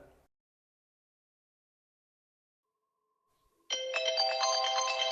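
A phone ringtone starts suddenly after a few seconds of near silence, a bright repeating electronic melody that keeps playing loudly to the end.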